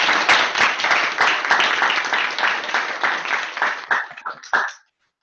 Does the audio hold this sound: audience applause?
yes